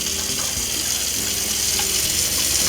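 Water runs steadily from a faucet inside a Winnebago EKKO Sprinter 23B RV during de-winterizing, a continuous close hiss of flowing water into the sink with no talk over it.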